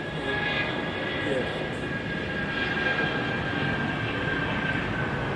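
An MD-11 jet aircraft at Phoenix Sky Harbor gives off a continuous, moderately loud engine roar with a steady high whine, with talk faintly beneath it.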